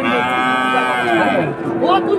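A loud, close bull moo at a busy cattle market in Dinajpur, Bangladesh, a single long drawn-out bellow that rises and wavers before trailing off.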